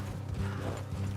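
Horse hooves clip-clop in Red Dead Redemption 2, a quick, quiet run of hoofbeats over faint mechanical rattling, with no talk.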